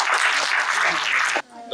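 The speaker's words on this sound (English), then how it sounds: "Let's have a huge round of applause." Audience applause at an event for the National Film Archive of India, a dense, steady wash of many hands clapping up close that stops abruptly near the end, leaving a quieter room.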